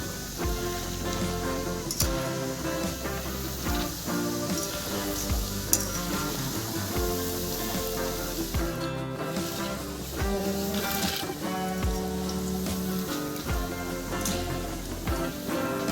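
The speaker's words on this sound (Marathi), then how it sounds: "आता डाळ्या तळून घेत आहोत आपण" Roasted gram dal frying in hot oil for corn chivda, a steady sizzle with occasional stirring heard under continuous background music.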